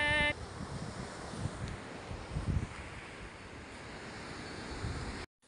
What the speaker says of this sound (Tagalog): Lakas po ng hangin, oh.